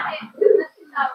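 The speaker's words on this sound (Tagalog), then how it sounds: "Gandang ibon to." A racing pigeon gives a short, soft coo up close, with a brief vocal sound before and after it.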